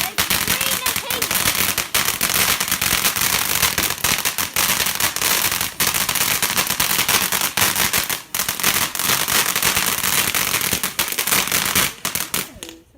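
Bonfire night fireworks bang and crackle continuously and loudly outdoors, a dense rapid barrage of sharp pops and sizzling bursts with brief pauses.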